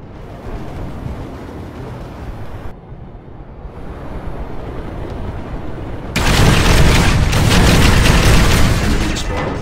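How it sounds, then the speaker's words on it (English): Rocket explosion in a game, a sudden loud booming blast midway that follows quieter rumbling battle noise and leaves a dense, sustained crackle afterward. "Yeah, a rocket."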